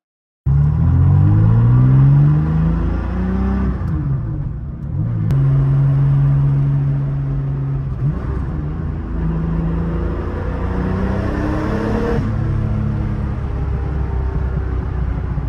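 A Porsche 911 fitted with a 3.4-liter twin-plug 1989 Porsche 930 engine drives by up close, its loud flat-six rumble rising and falling through several rev changes and gear shifts.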